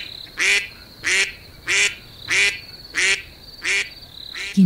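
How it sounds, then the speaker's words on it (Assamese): A duck quacks loudly and close, in six evenly spaced squawking calls over a faint steady background, with no voices. "তেনে কৰোঁতে হাঁহজনীয়ে চিঞৰিছিল।"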